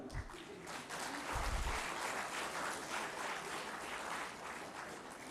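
An audience in a university hall claps at a lecture, a soft continuous wash of many hands that stays fairly faint and distant throughout.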